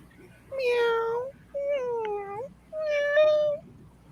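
A voice imitates a cat with three drawn-out, whiny meows separated by short pauses, close and clear against a quiet room.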